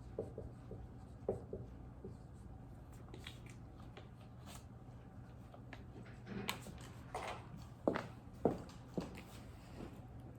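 A pen or marker draws a diagram with short scratchy strokes and taps, irregular and close, growing denser and louder toward the end.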